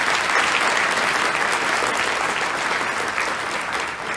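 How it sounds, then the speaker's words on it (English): An audience at a university alumni awards ceremony breaks into a sustained, loud round of applause, dense and even throughout, tapering slightly toward the end. "I think we should all give them a big round of applause"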